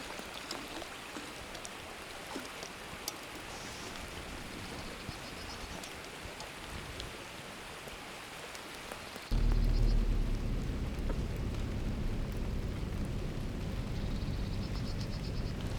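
Steady rain hisses throughout, a dense broadband patter that grows noticeably louder and heavier about two-thirds of the way in.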